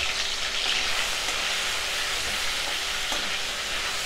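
Ginger, garlic and onion paste dropped into hot oil left from frying, a steady close-up sizzle and crackle with a few sharper pops, no voices.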